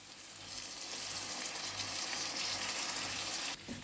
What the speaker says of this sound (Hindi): तो इस इमली की पानी को हम इसमें डाल देंगे